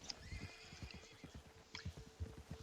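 A horse in the western video game Red Dead whinnies in a quavering neigh over rapid clip-clopping hooves, with a second neigh later, moderately close and alone without talk.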